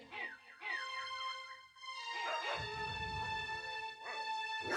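A dog whimpers and whines in a jungle setting, with high, wavering cries alongside sustained tonal music and a steady drum-like rumble, all fairly loud and close.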